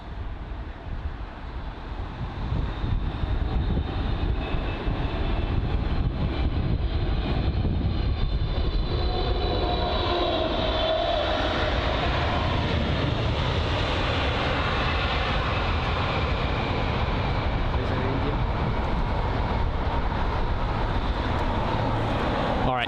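A Qatar Airways passenger airliner at London Heathrow, a low engine rumble building within the first few seconds into a sustained roar with a shifting whine, heard from a distance for over twenty seconds.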